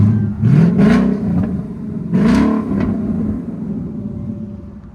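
A car's engine is revved twice through its aftermarket exhaust outside a shop, each rev a loud, rising roar that swells and drops back, with a rumbling idle trailing after.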